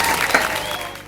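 Brief burst of applause from a church youth group, steady clapping from many hands that fades slightly toward the end.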